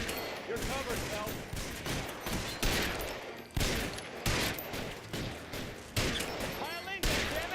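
Gunfire in the L.A. Noire video game comes as a series of loud, sharp shots and bursts in an uneven rhythm, with voices talking between them.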